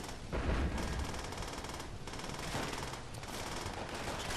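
An FG-42 automatic rifle fires in Call of Duty: World at War in long, loud, rattling bursts, with brief pauses between strings of rapid shots.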